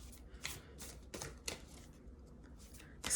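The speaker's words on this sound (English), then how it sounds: "These cards are like bigger and thicker, so they're kind of hard to shuffle with." Large, thick oracle cards are shuffled by hand in soft, papery riffles and slaps, several separate bursts in an uneven rhythm, quiet and close, with no speech.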